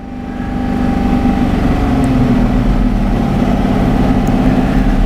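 A 2012 Dodge Charger V8 engine held at about 2,000 RPM during misfire diagnosis, a loud, steady, even drone with a strong low rumble that builds briefly at the start and then holds constant, close up with no talk.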